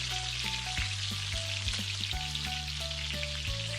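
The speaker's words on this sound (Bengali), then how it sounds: "গরম তেলের ভেতরে ছোট ছোট বড়া আকারে দিয়ে দেব রেস্টে রাখা মিক্সারটি।" Small fritters of palm-fruit batter fry in hot white oil over a medium flame, giving a continuous close crackling sizzle, while a stepped tonal melody plays underneath.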